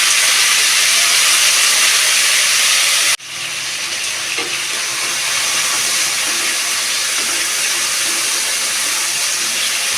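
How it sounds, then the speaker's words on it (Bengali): Chicken pieces fry in hot white oil in a wok, giving a loud, dense, continuous sizzle with one sudden brief dip early on before the hiss resumes; no voices. "তেলটা গরম হয়ে গেছে, এখানে প্রথমে আমি চিকেনগুলোকে ছেড়ে দেবো"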